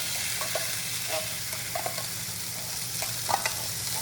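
Konda kadala tipped into a hot mustard seed tempering, giving a loud continuous sizzle with scattered pops and stirring scrapes close up, no talking.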